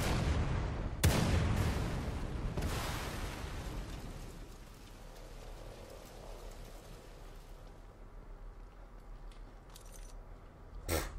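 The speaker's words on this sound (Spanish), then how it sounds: "Yo esto lo disparo." Gunfire in the survival horror video game The Evil Within 2: one sharp, loud shot with a booming tail that decays slowly into a low rumble, then faint game ambience.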